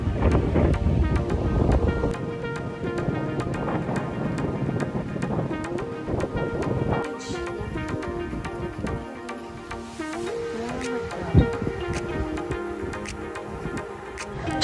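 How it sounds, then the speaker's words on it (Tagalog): Strong wind buffets the microphone with a low rumble, over steady surf and a faint background of voices or music, on a Boracay beach in the Philippines. "Grabe talaga yung hangin, no?"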